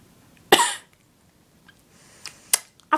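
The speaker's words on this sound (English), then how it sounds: "I've got a bad cough." Two sharp, close coughs, the first loud and rasping, the second shorter, separated by quiet, with a faint throat noise between them and no talking.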